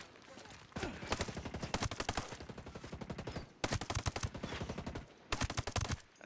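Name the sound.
gunshots in the video game Ghost Recon Breakpoint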